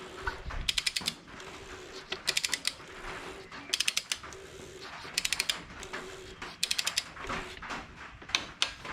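A torque wrench ratchets while tightening the oil drain plug to 25 Newton meters on a VW Golf Mk5, in repeated bursts of fast clicking with pauses between and a faint background hum.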